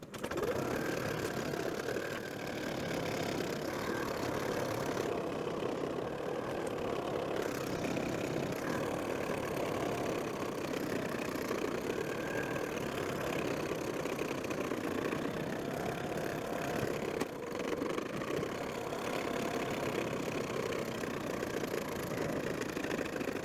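A Janome MC100E embroidery machine stitching out a design, a steady, fast mechanical whirring and tapping that runs unbroken and fairly quiet throughout.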